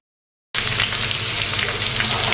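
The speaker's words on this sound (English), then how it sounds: "we're going to start by browning them off, which means oil and butter into the frying pan" Potatoes browning in oil and butter in a frying pan give a loud, steady sizzle that bursts in after half a second of silence and holds evenly to the end.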